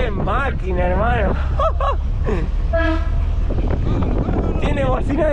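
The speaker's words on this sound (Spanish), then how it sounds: "tiene bocina de camión" A loud, deep truck-style horn on a car blares in short bursts and one longer blast, mixed with people talking excitedly nearby over a running engine, in Cuba.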